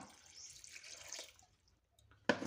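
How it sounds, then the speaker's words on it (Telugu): Water poured into a cooking pot of washed lentils on a home stove, heard as a soft running trickle that fades into a near-silent pause before a brief, louder splash at the end. "ఇప్పుడు మనకు తగినన్ని వాటర్ అయితే పోసుకుందాం"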